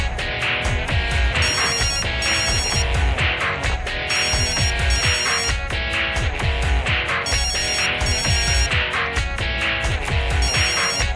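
A telephone rings insistently, its bright electronic trilling repeating in steady bursts, loud and close with no voices over it.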